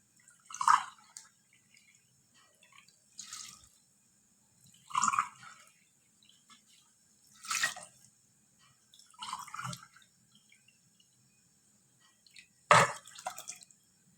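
Water poured into a small cooking pot over orange peels, three cups added as five short, separate splashing pours spaced a few seconds apart, close and fairly quiet, with no talk.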